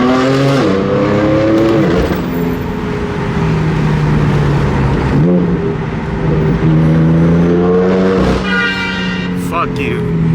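Car tires losing traction and squealing on cold rubber, with engine revving and a passing vehicle nearby; loud tonal squeals rise and fall in several bursts, under people talking.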